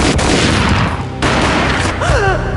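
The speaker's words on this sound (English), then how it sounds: "A gunshot boomed and she fell down in slow motion" Gunfire in the video game Max Payne, a loud, dense burst of booming shots up close, followed by a brief lull and a short rising whistle-like tone.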